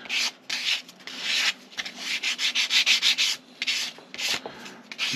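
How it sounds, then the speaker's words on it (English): A foam sanding pad rubs a wooden mast for a Model Shipways US Brig Syren model ship in quick back-and-forth strokes, a close, rhythmic scratchy hiss in short bursts with no talking. "Just come in and give it a quick sand."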